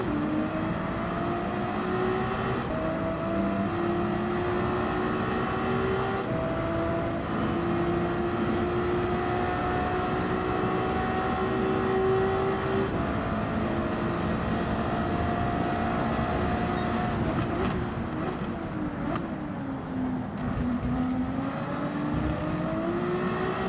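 Ferrari 296 GT3 race cars circling Monza in Gran Turismo 7, a continuous engine drone with rising tones and gear shifts, several cars layered together, steady and loud with no talk.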